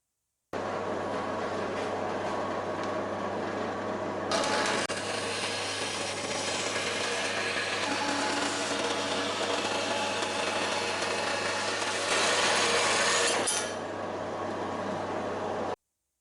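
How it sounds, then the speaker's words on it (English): A Clarke CBS45MD bandsaw set up as a vertical saw cuts freehand as the workpiece slides along the bed, giving a steady, loud motor hum and blade whine with a harsher cutting noise through the middle, no talking. "that converts it into a vertical bandsaw, so you can do more freehand cutting, sliding it along the bed"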